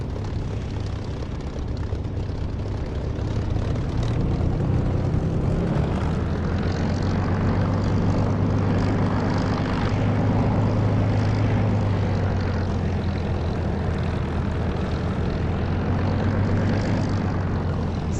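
Propeller aircraft engine droning steadily at takeoff power in the flight simulator DCS, a loud continuous hum with a low harmonic drone that shifts slightly in pitch as it runs, no voices over it.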